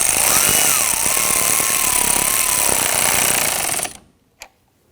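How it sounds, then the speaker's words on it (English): A nut is snugged down on the ground terminal of a 2017-2020 Hyundai Elantra 2.0L with a loud, continuous, close power-tool whir for about four seconds, then it cuts off and one brief click follows. "And snug down the nut."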